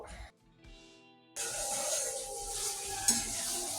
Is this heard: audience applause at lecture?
no